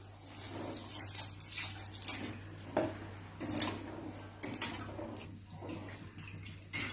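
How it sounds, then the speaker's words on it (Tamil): Dissolved tamarind water is poured into a pan of curry leaf kulambu (karuvepillai kulambu), giving a close, splashy trickle with a few soft clinks of utensils over a low steady background hum. "இது கூட நம்ம கரைச்சி வச்சிருக்க புளியை நம்ம ஊத்திடலாம்."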